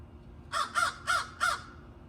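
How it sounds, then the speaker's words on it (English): Ravens cawing in a series of four harsh calls, evenly spaced and moderately close, standing out against a quiet background with no talking. "Don't worry, that's just the ravens."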